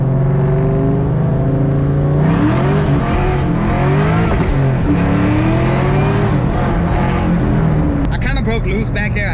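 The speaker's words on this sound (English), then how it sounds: "let's see if we can get a quick little first gear pull." An SVT Terminator Cobra with MagnaFlow exhaust makes a hard first-gear pull, its engine note loud and rising from a rough idle into a roaring acceleration, with a sharp burst of tire noise near the end.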